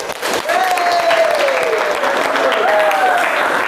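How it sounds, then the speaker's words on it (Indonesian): A classroom of students applauds for group 5 at a vocational high school, a dense, steady clapping that rises quickly and holds for several seconds while a voice speaks over it. "Aplaus untuk kelompok 5."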